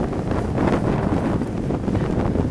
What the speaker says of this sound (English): That wind is just funneling right up this canyon. That is a strong, strong wind.